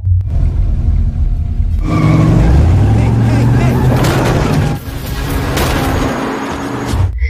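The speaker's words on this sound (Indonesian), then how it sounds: "Tom tidak peduli dan langsung tancap gas mengejar Rachel" A car in a film chase floors it and speeds off after another vehicle, a deep engine rumble swelling and rising in pitch, with a voice talking over the whole stretch.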